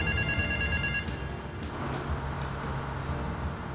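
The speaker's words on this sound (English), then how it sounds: "A phone's gonna be ringing the other side of the Transamerica building." In GTA 3, a payphone rings on the far side of the Transamerica building; a steady electronic ring pulses over a busy city backdrop of traffic rumble, moderately loud, with no one speaking.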